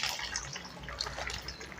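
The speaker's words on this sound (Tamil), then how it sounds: "இந்த கரைச்சி வச்சுருக்கிற புளி தண்ணியை ஊற்றிக்கலாம்" Tamarind water poured into a pot of brinjal and drumstick sambar, a soft, steady liquid splash and trickle running throughout at low level with no talking.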